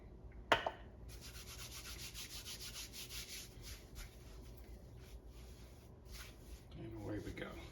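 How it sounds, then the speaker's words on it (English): Whole wheat bread dough being rubbed off floured hands, a soft continuous rubbing and scraping, close and quiet, with a sharp knock near the start and speech under it. "if it gets sticky, just kind of rub that off your hands"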